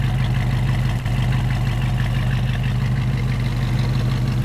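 A motorhome's 400 engine, about 30,000 miles on it, idles steadily with a deep, even rumble and a smooth, unchanging rhythm, close and alone, with no voices.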